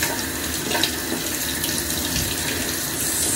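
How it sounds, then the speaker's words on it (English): Tap water runs steadily from a sink faucet while warming up for a face rinse at home, a constant close splashing rush with no pauses and no talking. "Just kind of letting the water get a little warm here."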